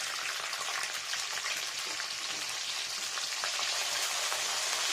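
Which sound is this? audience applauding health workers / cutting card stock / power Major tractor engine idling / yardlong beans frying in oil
yardlong beans frying in oil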